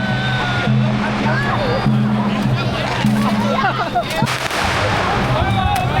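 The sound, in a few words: firecrackers exploding at Dragon Boat Festival in Guangzhou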